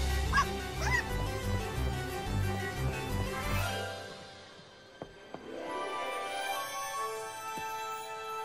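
Cartoon puppy barking and whimpering in a children's animated show, with a few yips and whines over music at the start, then fading to quieter, sparser sounds.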